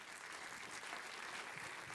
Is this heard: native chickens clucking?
no